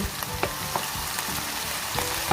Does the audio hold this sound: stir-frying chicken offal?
yes